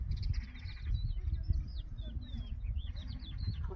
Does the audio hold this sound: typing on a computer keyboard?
no